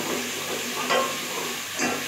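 Garlic and ginger paste frying in oil left over from browning onions, a steady broadband sizzle with two brief louder bursts of stirring, close and without talk.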